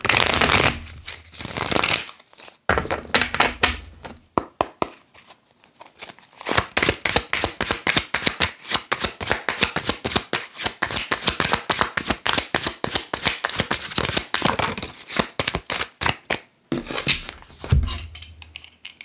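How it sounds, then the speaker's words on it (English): Tarot cards shuffled by hand in a long, steady run of rapid crisp riffling and flapping, loud and close, with brief pauses between bursts and no talking. "What's the Nine of Pentacles and the Emperor?"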